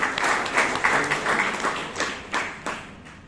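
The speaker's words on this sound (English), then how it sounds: "Round of applause for Toastmaster." A Toastmasters meeting audience in Bangalore claps for a speaker, a short round of applause with a few louder individual claps standing out as it dies away.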